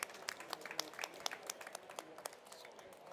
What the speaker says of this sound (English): I would like to ask a round of applause for the panelists.